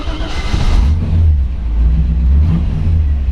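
A 1940 Ford Standard Woody Wagon engine, converted to a 12-volt system, runs loud and close with a low rumble, swelling in two revs before settling back to idle.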